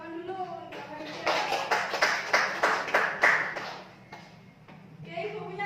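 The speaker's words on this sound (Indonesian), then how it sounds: "Tepuk tangan dulu untuk Kak Farida." A small group of students in a classroom clapping for a classmate, a short burst of roughly a dozen distinct claps in quick rhythm, with a teacher's voice before and after.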